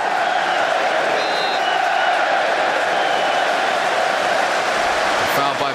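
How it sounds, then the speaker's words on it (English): A football stadium crowd at a Manchester United vs Liverpool Premier League match roars in steady, dense applause and cheering, loud and continuous for several seconds, with a commentator's voice faintly underneath. "The crowd appreciated that bit of play."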